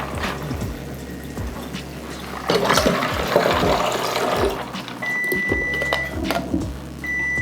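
A kitchen timer gives a steady electronic beep, then a shorter one, after two minutes of boiling broccoli, heard over running tap water and kitchen clatter.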